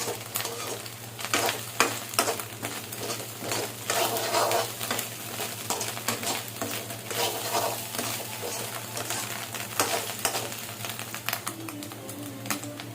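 Vegetables stir-frying with ginger-garlic paste in a pan for egg fried rice, a loud continuous sizzle broken by repeated scraping and clattering stirs, close and without talk.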